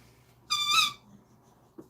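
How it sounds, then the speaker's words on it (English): A squeaky toy gives one bright, high-pitched squeak lasting about half a second, close and fairly loud, followed later by a soft faint knock in a quiet room. "What a squeak."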